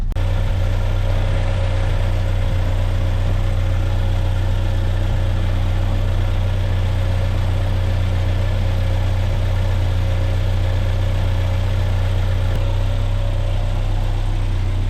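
A Hillman Superminx car engine idles steadily after starting, a loud, even, low mechanical hum with a constant throb that runs unbroken for the whole stretch, with no voices.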